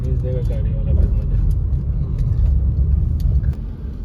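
Heavy night road traffic in Delhi, a loud continuous rumble of cars and buses close by, with passing engines and occasional horn-like tones, and voices talking over the din.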